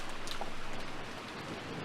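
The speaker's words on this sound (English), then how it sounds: "Oh, the rain's back." Steady rain in the Umineko When They Cry visual novel game falls as a dense, even hiss of drops with a faint low rumble underneath, continuous and fairly close.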